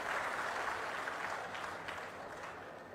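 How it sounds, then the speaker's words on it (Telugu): Audience applause at a public government event with the Chief Minister, a steady, dense wash of many hands clapping that holds loud throughout and eases only slightly toward the end. "గట్టిగా చప్పట్లు కూడా అభినందించండి."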